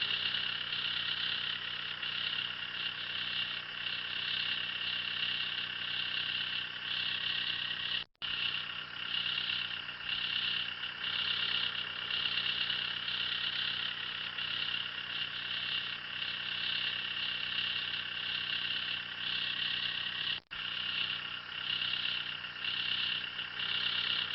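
A Trackless MT5 Classic tractor fitted with a twin auger snowblower runs at a steady idle while its chute is slowly rotated, a constant close engine drone with two brief dropouts.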